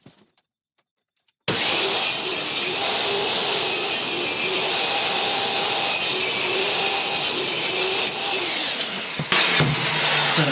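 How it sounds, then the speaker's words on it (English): A table saw trims a piece of wood, starting abruptly after a short silence and holding a loud, steady whine with a cutting rasp for about eight seconds, then easing off briefly before resuming near the end. "I'm just going to trim it with the table saw"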